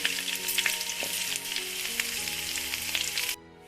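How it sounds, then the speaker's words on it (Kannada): Chopped onion fries in oil for a ridge gourd peel chutney, giving a loud, dense, continuous sizzle with occasional stirring clicks, cutting off abruptly near the end. "ಈಗ ಒಂದು ಆನಿಯನ್ನು ಕಟ್ ಮಾಡ್ಕೊಂಡಿದ್ದೆ ಇದನ್ನು ಹಾಕೋಣ ಎಲ್ಲ ತುಂಬ ಚೆನ್ನಾಗಿ ಫ್ರೈ ಆಗಬೇಕು"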